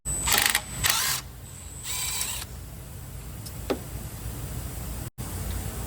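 A 10mm bolt being worked loose from the spindle bracket on a 1999–2007 Chevrolet Silverado, with close mechanical ratcheting and clicking bursts near the start, then a quieter stretch of faint workshop noise.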